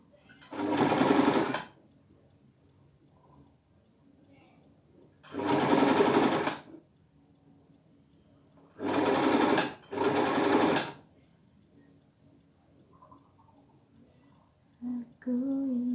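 Sewing machine stitching clothes, run in four loud bursts of steady whirring, the last two back to back, separated by quiet pauses with faint room noise, up close.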